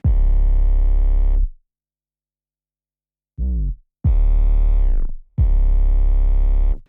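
Distorted synth bass with boosted mid-range, several loud buzzing sustained notes separated by silence, including one short stab, harsh and gritty, close and alone.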